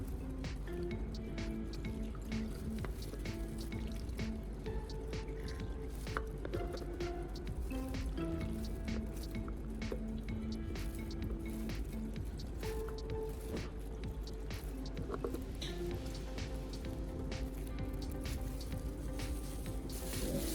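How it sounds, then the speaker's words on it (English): Water gently poured through a funnel into the cells of a car battery, a steady close liquid gurgle and dribble with small drips and splashes running continuously without talk. "I used water, gently pouring it into each battery cell through a funnel"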